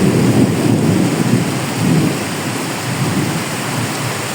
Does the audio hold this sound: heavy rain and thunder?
yes